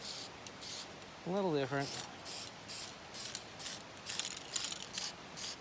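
A clear coat being sprayed onto a guitar body comes through as repeated bursts of aerosol hiss, each lasting under a second, with someone speaking briefly partway through.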